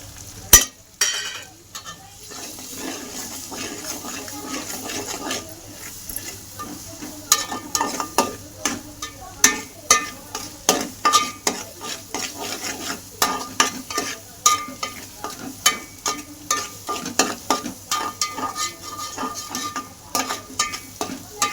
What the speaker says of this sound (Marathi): चला आता आपण ही पण चांगली परतून घेते